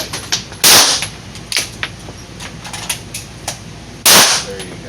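Handgun shots at a firearm training session, with two loud, sharp reports about three seconds apart amid lighter metallic clicks and pops, close by.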